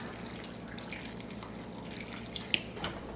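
Water trickles and drips into home canning jars packed with sweet potatoes, a faint, steady pour with a few brief splashes near the end.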